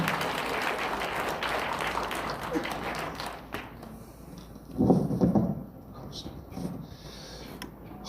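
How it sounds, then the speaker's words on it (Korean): Applause from a crowd at a church rally rises and fades over several seconds, a steady wash of clapping with a louder swell near the middle. "박수로 모시겠습니다."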